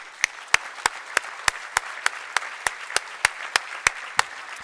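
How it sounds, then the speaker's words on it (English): Applause at a healthcare lecture comes through as evenly spaced, crisp hand claps in a steady rhythm over faint hall noise, moderately quiet and unaccompanied by talk. "Round of applause, please."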